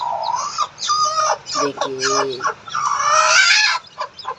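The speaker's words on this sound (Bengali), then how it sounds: "এই দেখেন আমার মুরগির বাচ্চা ফুটেছে, দেশি মুরগি।" A desi hen clucks with her newly hatched chicks close by, in repeated rising and falling calls with a few high chick peeps, while a person speaks briefly.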